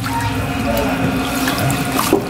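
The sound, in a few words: water in sink for soaking vegetables in salt water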